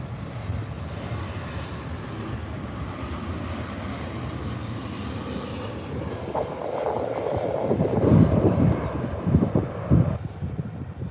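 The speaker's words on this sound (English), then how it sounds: "Nice landing there from the Jet 2." A Jet2 Boeing 737 landing at Birmingham airport: a broad engine roar and rushing wind noise, steady at first and swelling louder toward the end as the jet passes nearby.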